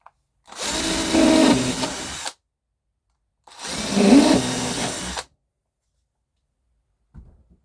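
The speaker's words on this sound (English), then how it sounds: "So on a drill, put 2 holes where I've marked it before." A power drill runs in two separate bursts of about two seconds each, motor whirring as it bores holes in a model railway layout baseboard, with silence between.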